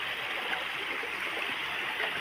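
Mountain water streams steadily in a continuous broadband rush, close and fairly loud, with no voices over it.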